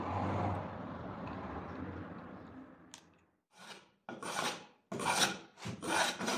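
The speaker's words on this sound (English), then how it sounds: "With a wood rasp, I'm gently shaping the edges to make them a bit more rounded." A wood rasp files and rounds the edges of scrap wood trim: one long continuous grating rub fades out, then several short, bright rasping strokes follow in an uneven rhythm, close and fairly quiet.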